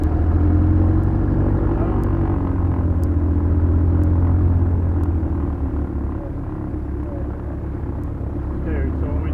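A multi-engine aircraft's piston engine runs after start, a loud steady low drone with strong low harmonics and faint regular clicks overhead, easing slightly in level partway through.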